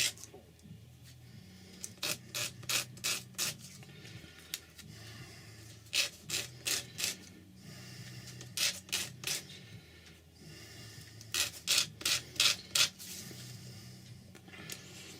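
Ends of wooden pieces being sanded by hand, with repeated bursts of four or five brisk rasping strokes separated by short pauses, close and clear over a low background hum.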